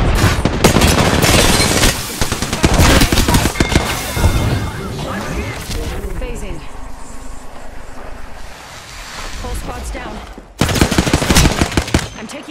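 Bursts of automatic gunfire from a shooter video game, loud dense volleys at the start and again near the end, with quieter rumbling game ambience between them.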